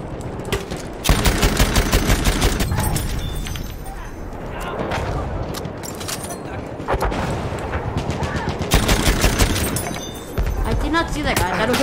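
Gunfire and explosions in the video game Battlefield 1, with bursts of rapid shots and heavy booms coming in waves and a player talking over the action.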